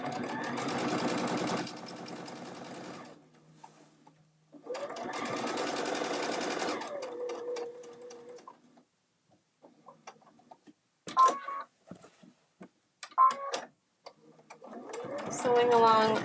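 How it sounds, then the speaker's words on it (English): A sewing machine stitches a bag lining in two sustained loud bursts of rapid mechanical whirring, followed by quieter clicks and short adjustment sounds before another burst starts. "Sewing along 1/8 inch along the bottom."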